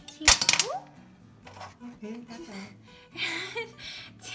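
Soy sauce marinade mixed in a bowl: a quick burst of spoon or utensil clinking against the dish at the start, then a person talking in a kitchen with faint handling sounds.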